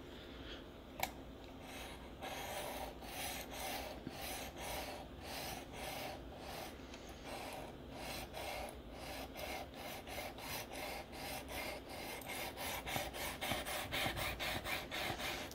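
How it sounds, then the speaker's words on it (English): Knife blade rasping back and forth across a coarse 150 grit Venev stone in a guided sharpener, a steady run of quick scraping strokes that grows slightly louder toward the end, with one sharp tap near the start. "this 150 grit Venev definitely cuts a lot faster than the 320 grit diamond that comes with this"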